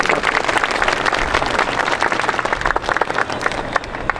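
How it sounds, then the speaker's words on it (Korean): An audience at a Catholic Mass in Uijeongbu, held for justice for the Japanese military comfort women, applauds an invited speaker, loud, dense clapping that holds steady before easing slightly near the end. "큰 박수 부탁드리겠습니다."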